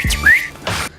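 A single short rising whistle, a person's imitation of a catcall whistled at women passing by a roadside, quick and close, set between brief bursts of voice.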